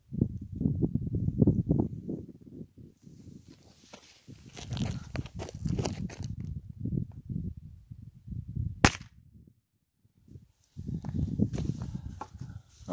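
A Pedersoli Remington Rider Deringer percussion cap pistol fires one sharp, loud crack near the nine-second mark, set among stretches of low handling noise and movement sounds, with a brief quiet gap after the shot.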